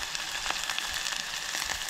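Mustard seeds, cumin and spices tempering in hot oil for a Goan vegetarian thali, a close, steady crackling sizzle with small pops throughout the short moment.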